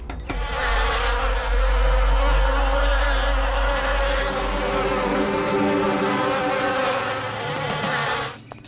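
A swarm of bees around a beehive drones loudly and continuously, with a thick, close buzzing that holds steady for several seconds before cutting off.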